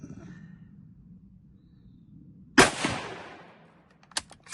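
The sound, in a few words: gunshots being fired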